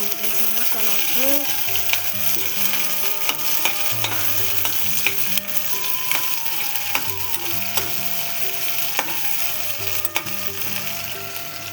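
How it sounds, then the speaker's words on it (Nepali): Onions sizzling and frying in a pan, stirred with a spoon that scrapes and clicks against the metal in repeated strokes over a constant loud hiss, close by with no talk. "प्याजलाई एकछिन चलाउँछु, रातो नहुँदैसम्म चलाउँछु।"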